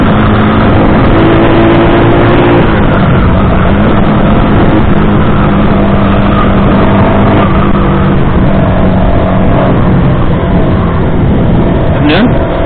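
A fuel-injected Rusi Flash 150X motorcycle engine revs hard at high RPM in third gear, producing a loud, continuous, close drone with wind-like roar throughout.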